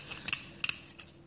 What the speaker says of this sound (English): what you're going to need is a pair of tin snips, and the material is fairly easy to cut